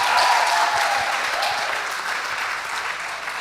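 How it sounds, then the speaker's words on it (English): Applause from an audience greeting the winning school team at a school debate competition, a dense steady clapping that fills the whole moment and eases slightly toward the end, with no talking over it. "Please give them a round of applause."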